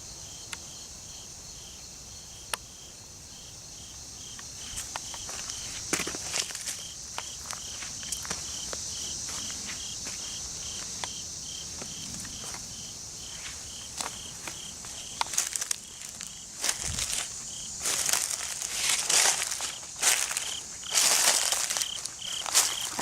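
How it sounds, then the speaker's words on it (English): Footsteps crunch through dry leaves and twigs outdoors, a steady series of close crackling steps growing louder and busier toward the end, with a constant chorus of crickets or insects in the background. "I love that sound, the leaves and the twigs beneath your feet."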